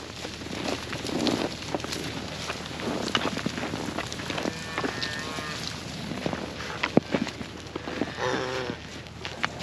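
Calves on a snowy South Dakota ranch in a blizzard's aftermath, mooing several times at close to medium range over a steady windy, outdoor background, with scattered shuffling and movement sounds.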